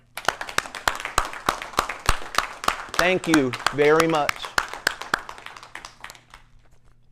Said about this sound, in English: please join me in a round of applause for my artistic team